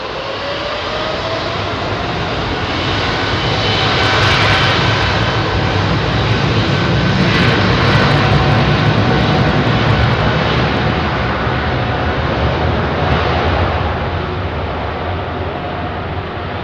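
A British Airways Boeing 777 bound for JFK takes off from Heathrow's runway 27R, its engine roar swelling to a loud peak midway and then easing, a powerful continuous rumble with no voices.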